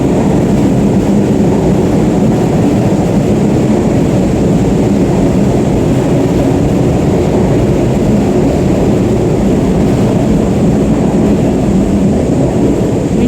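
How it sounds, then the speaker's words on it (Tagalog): A loud, steady rumbling roar of an elevated LRT light rail train passing overhead at Arroceros Forest Park, Manila, fills the whole stretch, heavy low-end noise with no break. "Maingay po mga kababes dito dahil mayroon po yung LRT po ay nasa taas lang."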